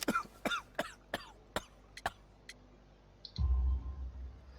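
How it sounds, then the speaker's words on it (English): In the video game Sherlock Holmes: The Devil's Daughter, a series of harsh, breathy coughs comes in quick succession, then fades into a low rumbling background. "You have a severe cough."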